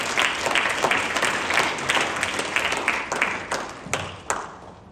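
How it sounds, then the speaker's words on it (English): An audience applauds at a masterclass, a dense, sustained round of clapping from a room of people, steady and loud throughout with individual claps standing out near the end. "can we all give a massive round of applause to the amazing Sam from MediCloud."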